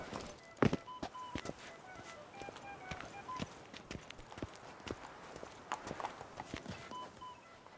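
Roach the horse clip-clopping in The Witcher 3: Blood and Wine, a steady run of close hoof strikes on hard ground with a few sharper louder knocks, no talk over it.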